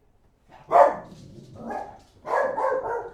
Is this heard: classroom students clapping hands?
no